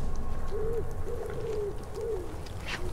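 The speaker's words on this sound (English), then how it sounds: "bird or something. It's just going crazy" Birds call in the wilderness survival video game Shelter 2, a series of four or five soft hooting, cooing notes over a low ambient background, fairly faint.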